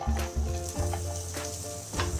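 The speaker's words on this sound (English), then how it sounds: "You can hear them sizzle" Onions sizzle and crackle steadily in a hot pot, with a few soft knocks of stirring breaking the hiss.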